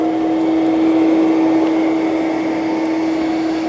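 A Eureka E10s robot vacuum runs on carpet with a steady, loud whirring hum and a fixed motor whine, a constant mechanical drone with no pauses or voices.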